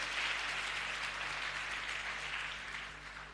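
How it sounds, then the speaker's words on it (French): A crowd claps steadily in a dense wash of applause, fairly distant and softening slightly toward the end. "Et puis nous donnons des acclamations"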